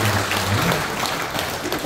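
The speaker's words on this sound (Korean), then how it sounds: "큰 박수로" A hall full of members at a 2022 Bareun Salgi movement convention in Pocheon claps continuously, a thick, even wash of applause throughout.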